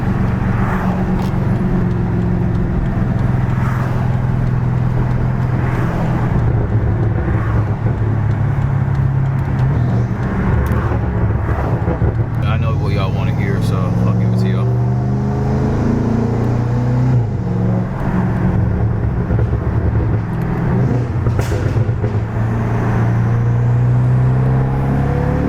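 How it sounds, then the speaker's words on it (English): A BMW 550i with a twin-turbo hot-V V8 and an aftermarket exhaust rumbles and revs up close, its deep engine note rising and falling through several pulls with a whooshing swell in the middle and no talk over it. "that V8 sound, twin turbo, hot V setup. It just sounds so good, especially with my exhaust system."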